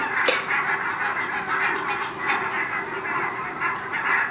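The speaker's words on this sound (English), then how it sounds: "So here's a video of geese landing." A flock of geese lands in a field, honking repeatedly in overlapping calls across the whole stretch at moderate distance.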